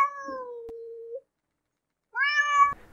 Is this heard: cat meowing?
yes